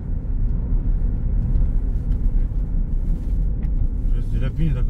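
A BMW X6 diesel drives along with a steady low engine and road rumble heard from inside the cabin, while people talk over it.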